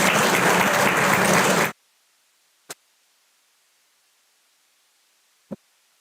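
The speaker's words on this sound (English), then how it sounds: "Can you please have a thunderous round of applause for our dignitaries?" Loud, dense applause from a conference audience for the dignitaries, lasting under two seconds and then cutting off abruptly into silence, broken by two isolated clicks.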